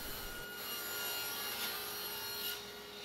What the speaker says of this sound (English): I went ahead and trimmed the maple pieces down so that I would have a flat